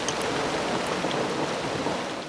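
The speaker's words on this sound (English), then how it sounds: "Rain washes off the fungicide." Steady, dense rain pouring down close by, a continuous hiss of drops on surfaces with no voices, as might fall over a mango orchard.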